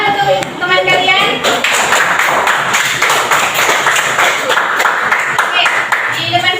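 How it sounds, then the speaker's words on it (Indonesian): A classroom full of students claps in sustained applause, loud and close, with scattered voices mixed in. "Tepuk tangan untuk teman kalian"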